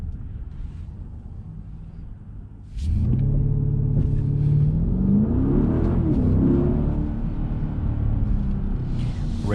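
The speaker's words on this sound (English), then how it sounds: "Let's see if we could do another acceleration right here." A 2021 Mercedes GLS 580 SUV accelerates hard from a stop, its engine rumble rising suddenly and staying loud and steady inside the cabin.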